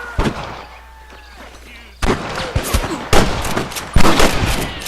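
Gunfire in the Western game Red Dead Redemption, loud irregular shots and volleys in a frontier shootout with rustlers, someone shouting between the blasts.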